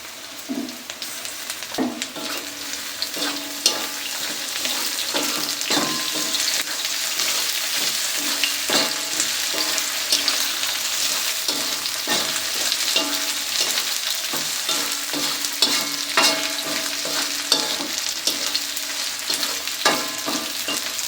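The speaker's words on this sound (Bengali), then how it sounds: "পেঁয়াজ রসুনের সাথে শুটকিটাও ভালো করে ভেজে নেব।" Chopped onion and garlic with dried kechki fish sizzle in oil in a hot wok, with continuous crackling frying and frequent scraping stirs of a spatula, up close and without voices.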